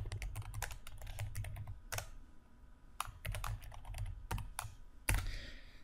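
Typing on a computer keyboard during work in Word 2013, a quick irregular patter of key clicks in short bursts with gaps and a louder final keystroke, close and fairly quiet, no talking.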